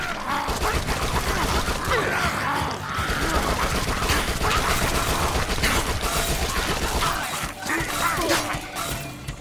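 Dense SMG fire in Dead Nation, rapid continuous bursts layered with crashing impacts and mechanical clatter, loud and sustained throughout with no pause.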